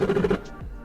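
A vertical motor module straining from insufficient power gives a short rapid buzzing pulse that fades into a low rumble, close and brief.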